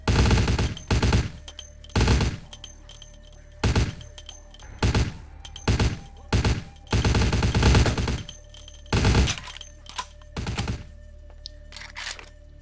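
Repeated bursts of loud, close gunfire in Vampire: The Masquerade - Bloodlines, about ten separate volleys spaced irregularly with brief pauses between, some longer and rattling, others short single thumps.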